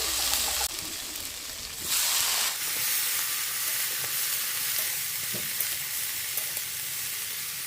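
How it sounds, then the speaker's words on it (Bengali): Spices hitting hot oil with cabbage in a village kitchen, a steady close sizzle and hiss of frying with brief louder bursts and occasional stirring clinks, no talk. "আমি দেখো ভাজাতে এখানে দিয়ে দিলাম মশলাটা একবারে"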